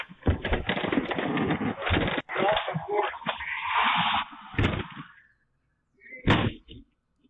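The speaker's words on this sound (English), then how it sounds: "He putting his shoulder into the door" A man rams a house door with his shoulder during a break-in, heavy thuds and bangs over a dense, noisy commotion, then two sharp, loud impacts set apart near the end.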